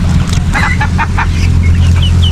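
Ducks swimming on a hot day at a rural provincial farm give a few short, fairly close quacking calls in quick succession over a steady low background hum.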